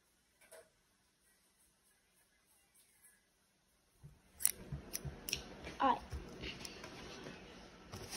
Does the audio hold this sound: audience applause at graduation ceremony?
no